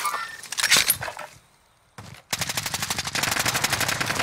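Video game gunfire in Call of Duty Modern Warfare Warzone: a few scattered shots, a short pause, then a rapid sustained automatic burst of closely spaced loud rounds.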